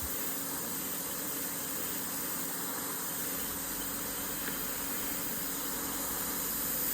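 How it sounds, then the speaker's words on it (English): An airbrush blows a steady, loud stream of air over fresh paint on a fishing lure, giving an unbroken close hiss that lasts throughout. "Use the air from the airbrush to help dry it."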